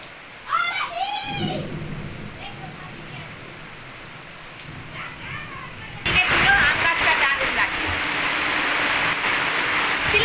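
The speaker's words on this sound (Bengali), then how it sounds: "কি বৃষ্টি হচ্ছে" Heavy rain pours down hard and steadily during a Durga Puja downpour, rising to a dense, loud roar halfway through. At the start it sits under a person's talk.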